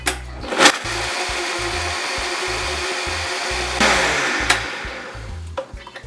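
A blender whirs steadily for several seconds as it mixes a thin salad dressing of garlic powder, mustard and water. The motor hum is loud and close, with small surges and bumps, and no one talks.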